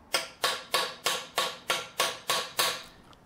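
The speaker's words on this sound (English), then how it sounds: "I only show a few seconds of hitting the hammer here" A hammer, likely a slide hammer, pounds out a gimbal bearing during a gimbal housing rebuild: nine sharp metallic strikes at a steady, even rhythm, close and clear with no talk.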